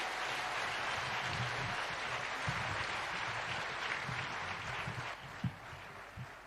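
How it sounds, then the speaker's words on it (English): Audience applause welcoming the President of the Republic of Kenya at a Public Service Commission report launch, a steady hall-filling clapping wash with some low murmur and a brief thump near the end. "help me with applause to welcome the President of the Republic of Kenya, Dr. William Samoei Ruto."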